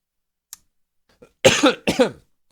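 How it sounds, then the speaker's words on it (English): Two short, harsh coughs close together, near and loud, preceded by a couple of faint clicks and followed by silence. "I swear I have a permanent COVID cough"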